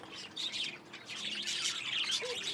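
Pet birds kept at home chirp and tweet in quick, faint bursts, close but quiet over a soft background hiss, with no talking.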